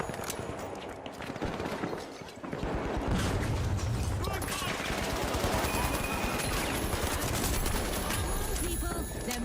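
Dense, continuous gunfire from The Finals, with overlapping bursts and sustained automatic fire rattling throughout, loud and busy with a quieter lead-in before the barrage builds.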